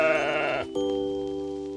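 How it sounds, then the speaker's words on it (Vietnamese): A sheep gives a single quavering bleat at the start, clear and fairly loud, then stops abruptly as a steady, held musical chord takes over in a children's counting lesson. "Ba con cừu."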